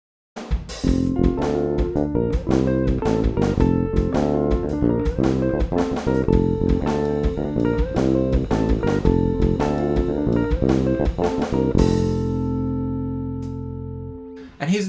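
Bass guitar notes played in a lilting, uneven 5/4 shuffle groove, clear and close, ending on a sustained note that rings out.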